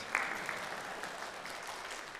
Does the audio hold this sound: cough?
no